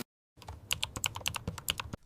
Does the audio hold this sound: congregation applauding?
no